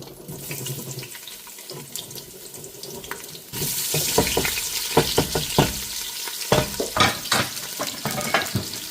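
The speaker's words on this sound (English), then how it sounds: "Time for the onions to go in the pot." Onions go into hot coconut oil in a pot and sizzle loudly, a steady crackling hiss with stirring clatter, after a few seconds of quieter kitchen noise with running water.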